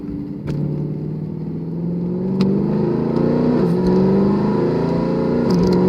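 A 2012 Mercedes C63 AMG W204 with a tuned transmission accelerates hard from the cabin, its loud engine drone climbing steadily in pitch with a couple of quick gear-shift dips, steady and close.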